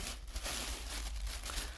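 A plastic bag crinkles and rustles close by in brief irregular handling sounds, with no talking.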